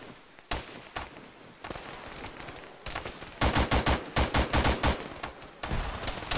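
Gunfire in the Arma military game during a ShackTac firefight: sharp shots crack in scattered bursts, then a dense run of rapid automatic fire rings out loud and close, followed by more isolated shots.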